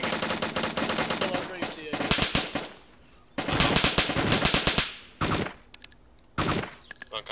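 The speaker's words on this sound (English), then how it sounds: "Somebody's shooting. Yeah, they're shooting him." Rapid automatic gunfire in a video game, long loud bursts of rattling shots broken by brief pauses, with a few short single shots near the end.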